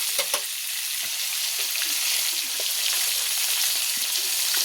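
Close, continuous sizzling of golda prawns frying in a pan, a dense crackling hiss with scattered small pops and a couple of sharper spits near the start, and no voices.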